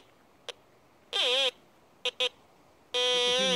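A Bounty Hunter Land Ranger Pro metal detector in disc mode 2 passes over targets laid on the ground, giving a short blip, a warbling tone, a quick double blip and a longer wavering tone, all clear and alone.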